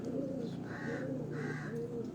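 Golden kamgar pigeons coo on a rooftop, giving soft repeated hooting calls in a steady rhythm over a continuous low background murmur.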